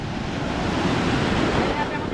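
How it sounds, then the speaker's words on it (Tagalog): Ocean waves building in size along a shoreline, a steady broadband roar of surf with wind rushing across the microphone, continuous and fairly loud throughout. "Lumaki na ang alon."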